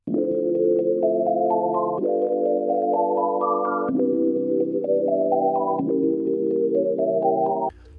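A sustained pad from the stock Logic electric piano plugin, thickened with heavy effects, plays held chords under rising stepped melody notes, steady and full for several bars before stopping abruptly.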